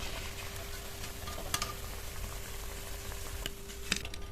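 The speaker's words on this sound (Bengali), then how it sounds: "বাকিগুলো দিয়ে একইভাবে ভেজে নেব" Potato tikki (shami) kebabs deep fry in oil with a steady bubbling hiss and faint crackles, close and continuous, with a few light clinks.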